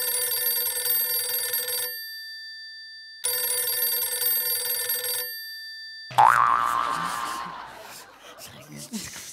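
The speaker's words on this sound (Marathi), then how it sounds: "मी रिंगटोन ऐकली" A phone rings twice in loud electronic bursts with a pause between, then a sharp springy boing and muffled chuckling noises follow.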